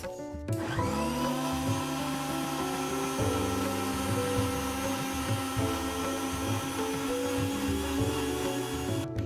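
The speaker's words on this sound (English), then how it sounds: "Once again we grind it." Kitchen blender grinding coconut, apple, milk and a pinch of cinnamon into a milkshake: a loud, close motor whir starts abruptly, pitch rising as it spins up, then churns steadily with slight load changes until cutting off.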